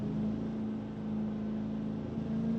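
A car engine in BeamNG hums at steady cruise through a tunnel, a low droning tone with a constant road and wind roar and no talking.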